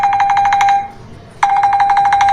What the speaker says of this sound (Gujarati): ફોન કોનો આવે? ફોન ઉપાડ ને.